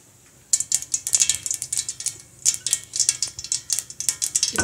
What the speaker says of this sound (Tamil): இப்போ கடுகு பொரிஞ்சிட்ருக்கு.